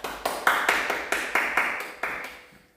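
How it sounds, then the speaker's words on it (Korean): About ten sharp claps in a steady, evenly spaced rhythm, decaying toward the end, from a small group at a children's live-streamed church service. "우리 하나님께 영광의 박수 올리겠습니다."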